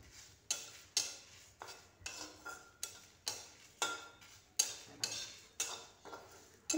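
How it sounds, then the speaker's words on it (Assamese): Spice mix dry-frying in a heated wok, where a spoon scrapes and taps against the metal in a regular rhythm of about two strokes per second, faint and close with no talking. "এতিয়া এই মছলাখিনি ভালদৰে ভাজি লম"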